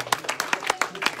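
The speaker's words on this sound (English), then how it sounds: "Go ahead and clap your hands unto the Lord." Congregation clapping hands during a church worship service, a quick run of sharp, evenly spaced claps, fairly close and steady, with no voices on top.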